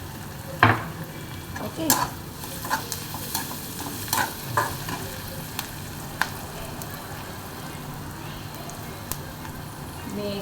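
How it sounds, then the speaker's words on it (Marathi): Chopped onion sizzles steadily in a hot pan while being cooked for a dill-leaf bhaji, with a spatula scraping and clinking against the metal every second or so and a voice speaking briefly over the frying. "कांदा चांगला शिजतोय."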